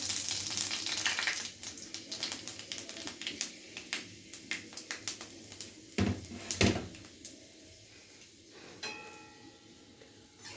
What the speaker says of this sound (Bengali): ফোড়নটাকে হালকা নেড়ে চেড়ে নেব